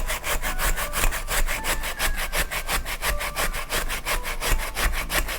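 Three peeled potatoes are grated on a grater in quick, steady back-and-forth rasping strokes, close and continuous.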